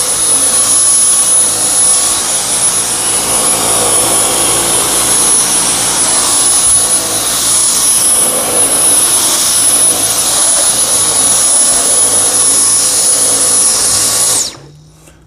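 A Dyson V10 Motorhead cordless vacuum runs at a loud, steady high-pitched whine while deep-cleaning carpeted stairs, its tone wavering slightly as the head moves, then cutting off abruptly near the end.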